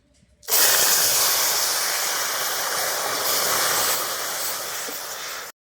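A bowl of water poured onto hot melted caramelized sugar bursts into a loud, steady hiss of steam that starts abruptly, holds for about five seconds, then cuts off, while making amla murabba.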